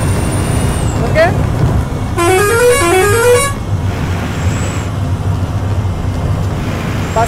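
A bus in Euro Truck Simulator 2 on a ghat mountain road, its engine a steady low drone, sounds a loud warbling horn blast in the middle, with a shorter tone earlier and another later.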